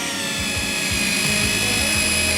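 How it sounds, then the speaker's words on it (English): A power drill bores a hole into the top of a kayak track tube, a loud, close, high-pitched whine with a repeating pulsing rhythm as the bit bites into the tube. "So that's just drilled the top hole"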